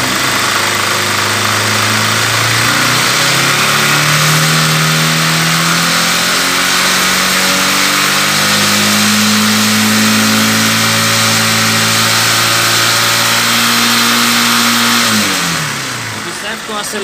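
A loud Honda CG 150 Titan motorcycle engine revs up and holds a strained, rising drone for several seconds, then winds down near the end.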